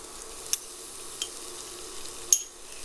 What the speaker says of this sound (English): So we add the garlic and the ginger.